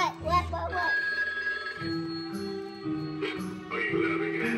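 A toy telephone rings with bright electronic trills, repeating in bursts alongside voices talking, close and fairly loud.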